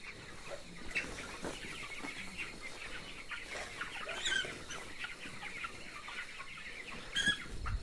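Chickens clucking inside a curtained poultry shed, a dense chorus of overlapping clucks and calls at moderate distance with occasional louder bursts and wing flaps.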